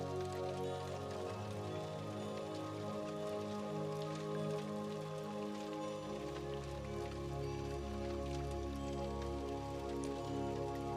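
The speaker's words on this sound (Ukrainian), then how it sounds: "Починається дощ." Rain falls softly and steadily on a surface, a continuous patter of drops that thickens slightly partway through, layered with low sustained ambient tones.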